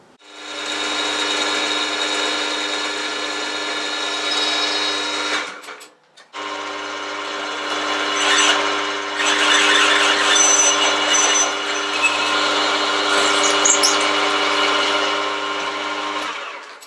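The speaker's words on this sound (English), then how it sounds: "All I need to do now is drill a hole in here" A power drill bores a 10mm hole into steel, a loud steady whirring with a strong tonal whine, one short pause midway, then continuing with rougher grinding texture.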